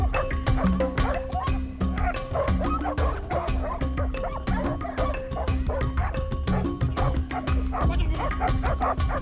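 Anti-poaching tracking dogs in Namibia bark and whimper excitedly, a dense, continuous run of close, loud yips and bow-wows with no pause.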